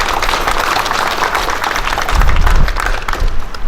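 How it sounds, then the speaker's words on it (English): Applause for a chaplains corps at a community violence remembrance memorial: steady, dense clapping from a gathered crowd, fairly close and loud, swelling slightly toward the end with no voices over it. "give them a hand of applause if you would"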